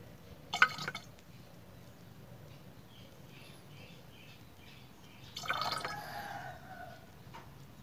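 Fermented mangosteen peel liquid is poured into about 1,500 ml of water, giving two brief, soft splashing and dripping bursts close by, one near the start and a longer one later, against a quiet background.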